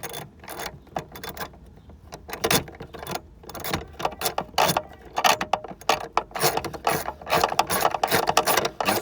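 A hand ratchet clicks rapidly in uneven bursts while rear strut bolts on a car come loose, close and fairly loud with short pauses between runs.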